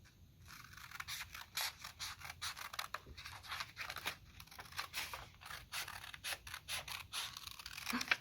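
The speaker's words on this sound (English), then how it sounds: "we are going to use our scissors and we are going to cut" Scissors snipping through a folded paper circle along its center crease, a steady run of quiet, close clicking cuts repeating every fraction of a second until the paper separates.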